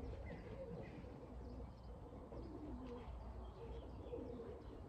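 A racing pigeon cooing, soft low repeated coos against a steady background hum, faint and fairly close, with no talking.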